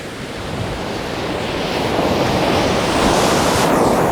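Ocean surf breaking on a beach with foaming backwash, a loud, continuous roar that swells steadily toward the end, mixed with wind buffeting the microphone, no voices.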